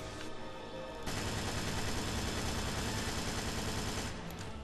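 Sustained gunfire from a gun in the video game Headhunter: a dense, continuous volley of shots that starts abruptly and holds loud and steady for several seconds, with no talking.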